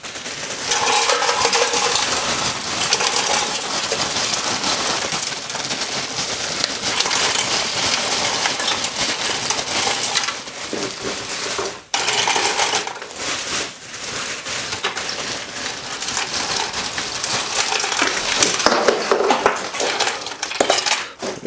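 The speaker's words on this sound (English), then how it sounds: "Now let's get the brew on ice." Ice rattles and clatters as cans of beer are pushed into a cooler beside a charcoal kettle grill, with continuous loud, close crunching and clinking, no talk.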